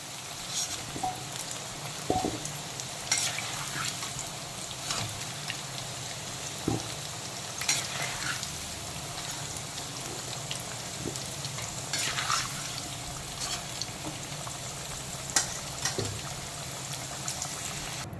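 Potato pieces frying in hot oil for a spicy green jackfruit and egg curry make a continuous sizzle and bubbling, with occasional stirring knocks throughout and no talking.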